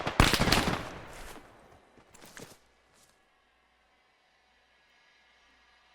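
Gunfire in the Arma 3 military shooter as tracer rounds fly: a dense burst of rapid shots for about two seconds, a shorter volley after, then near silence with faint residual noise.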